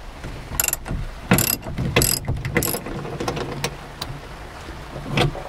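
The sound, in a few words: ratchet with long socket on 18 mm seat belt bolt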